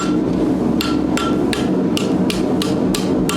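A blacksmith hammers hot iron over the edge of an anvil, sounding eight sharp, ringing metallic strikes in a steady rhythm, loud and close, with a low rumble of background noise beneath.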